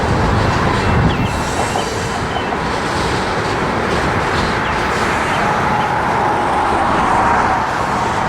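A Union Pacific freight train rolls past close by, a loud, continuous roar and rumble of wheels on rail that holds steady throughout with no voices.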